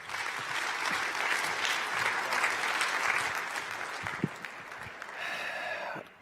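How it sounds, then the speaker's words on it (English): Conference audience applause at a Vue.js developer event, a dense sustained clapping from a large crowd filling the room, tapering slightly before a brief renewed swell near the end, with faint murmurs mixed in. "Do give him a round of applause."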